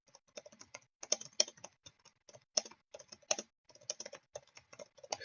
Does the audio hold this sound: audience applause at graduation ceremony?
no